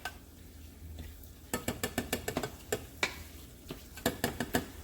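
Fat poured off from a cooking pan, a run of sharp clinks and scrapes of metal against the pan in quick irregular bursts over a faint sizzle, up close, no talk.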